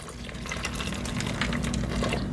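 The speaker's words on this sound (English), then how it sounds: "And then we're going to add our water, which is going to be 4 cups of water." Four cups of water pour steadily into a cooking pot, a close, continuous splashing rush lasting a couple of seconds with no talking.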